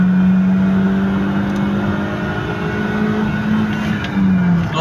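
Opel Vectra C pulling hard in second gear, the engine droning loud and close with a steady rising tone and faint road rush underneath.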